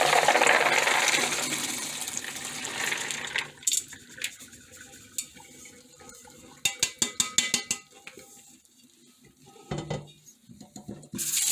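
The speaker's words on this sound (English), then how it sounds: "dump them into the strainer." Soaked beans are dumped into a strainer: a loud rushing pour of water and beans at first, then a run of rattling clicks and patters as the beans settle, with a second brief gush near the end.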